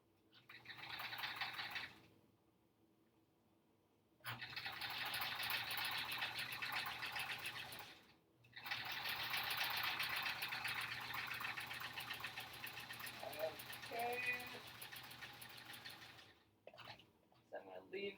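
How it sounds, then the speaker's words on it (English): A sewing machine stitches quilt-as-you-go blocks in steady whirring runs with a sharp stop and brief quiet gaps between them, close up and clear, with a faint voice in the background. "We're ready to sew."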